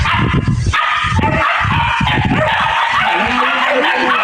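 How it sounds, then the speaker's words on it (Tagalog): Several dogs bark loudly and repeatedly in quick bursts, close by, with some higher yips and whining mixed in. "Ingay na yung mga agong aso."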